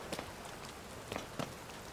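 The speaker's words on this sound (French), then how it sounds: "C'est pour ça que c'est chiant avec la pluie" Rain pattering steadily in Zelda: Tears of the Kingdom, a soft continuous hiss with a few brief louder drop-like taps scattered through it, no voices.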